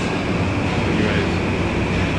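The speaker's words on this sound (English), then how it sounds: "try to get on this train to be quiet. There's only one stop." Interior rumble of a train in Japan heading toward Otsumachi, a steady, loud broadband roar of wheels and carriage noise running unbroken throughout with no talk.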